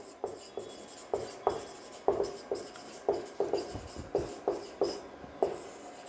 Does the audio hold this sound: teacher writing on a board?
yes